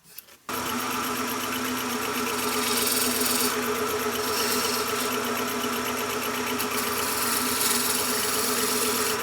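Shopsmith wood lathe turning a wooden mushroom shape, shaped with a flat chisel, giving a steady loud motor hum and whine that starts abruptly and runs continuously with faint scraping texture.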